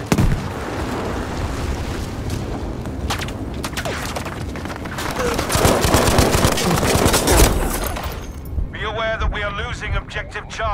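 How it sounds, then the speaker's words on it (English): Dense, loud gunfire and explosions, including a grenade blast, roar through a Battlefield 5 beta match on the Rotterdam map, close and continuous, with voice chatter breaking in near the end. "Have a grenade!"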